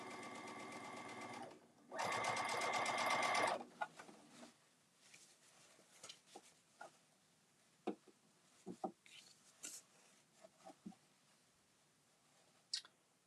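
A sewing machine stitches bag handles in two short, loud, steady bursts of rapid whirring, followed by quieter scattered clicks, taps and fabric handling.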